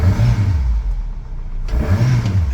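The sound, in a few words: Yamaha 115hp outboard engine revving up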